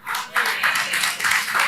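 A church congregation claps in rhythmic, pulsing waves of applause, fairly close and loud, with some voices mixed in.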